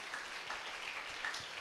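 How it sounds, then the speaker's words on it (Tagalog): A church congregation claps together at a gospel service, a brief, soft burst of crowd applause heard at some distance. "Mas malakas ang palakpak sa Diyos ng buhay"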